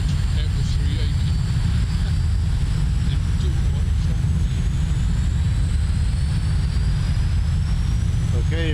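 The F-86 Sabre jet engine in a flight simulator spools up to a steady, loud roar with a deep rumble and a rising whine, continuous throughout and masking any other sound.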